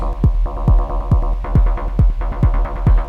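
A repeating FM-synthesized percussive hit with a metallic, clangy tone and a falling pitch, pulsing steadily about twice per second over a low hum.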